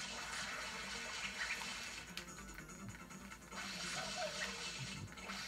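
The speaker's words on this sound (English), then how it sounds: "Spray with water!" FLUDD water nozzle spraying in the Super Mario Sunshine video game, a quiet, steady hissing wash of water that dips briefly midway and then surges again, with no talking.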